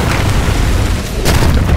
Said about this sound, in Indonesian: Meledak di mana-mana.